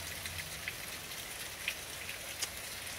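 Light, steady rain falls outdoors as a soft continuous hiss with a few scattered drips, even and moderately faint, with no voices.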